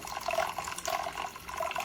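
An ANZESER magnetic stirrer swirls instant coffee into 300 ml of cold water in a beaker, making a soft, steady liquid churning and gurgling that stays faint throughout.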